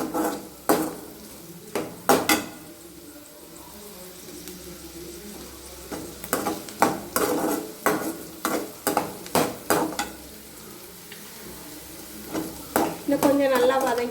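Vegetables sauté in a pan for an egg veg Maggi recipe, with a soft sizzle beneath repeated sharp clinks and scrapes of a spoon stirring against the metal, loud and close.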